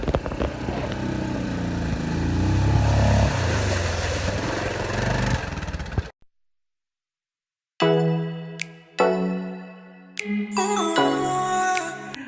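An ATV engine runs with a steady mid-pitched drone on a trail ride in Medellín, Colombia. It holds loud and continuous for about six seconds, then cuts to silence before unrelated tonal sounds follow.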